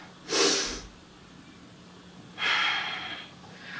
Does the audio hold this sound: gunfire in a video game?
no